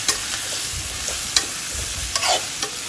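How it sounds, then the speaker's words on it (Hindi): Okra frying in an oiled pan with a pinch of asafoetida, stirred over high heat, a constant crackling sizzle broken by a few sharp scrapes and taps of a spatula against the pan, no talking. "उसके बाद हम इसमें डाल देंगे हमारी भिंडी, और एक बार इसको अच्छे से मिक्स कर लेते हैं।"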